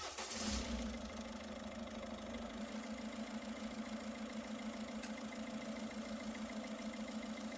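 A car engine starts up with a brief burst, then settles into a steady, moderately quiet idle hum with no talking.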